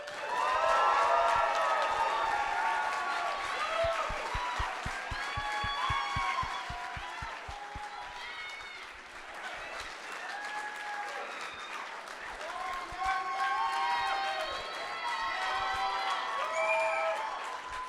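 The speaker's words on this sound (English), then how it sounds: "can you guys do me a favor in the biggest round of applause possible for all of the teams in the" A large audience applauds for the competing teams at a 2019 final pitch event, with some cheering and crowd noise mixed into the sustained clapping, which rolls on for most of the clip before easing slightly and building again.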